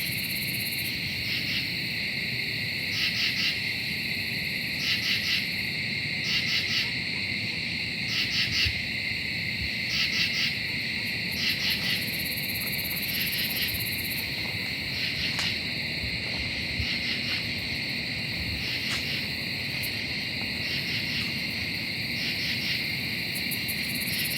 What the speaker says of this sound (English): Sprinkler sounding insect though is a katydid.